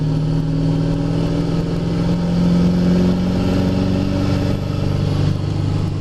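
A modified 7.3 diesel pickup truck pulls hard under about three-quarter throttle while towing up a hill, a loud, deep, droning engine note that holds steady and rises slightly, with no talk.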